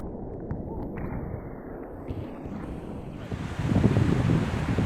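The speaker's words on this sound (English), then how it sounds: "These waves are knee-high, and look at the trouble they give us." Small, knee-high surf waves wash and roll in during a surfing lesson, with steady wind buffeting the microphone and a louder rush of breaking water building toward the end.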